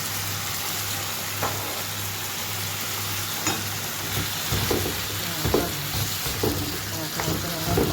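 Onion, peppers and tomatoes fry for chicken fajita in a sizzling pan. The hiss runs steadily and fairly softly, broken by irregular louder clacks and scrapes from stirring.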